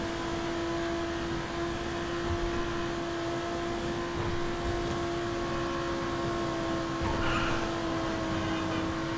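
Jester RR sports car driving in the video game GTA 5, with a steady, fairly quiet engine drone holding a constant tone and no clear revving changes.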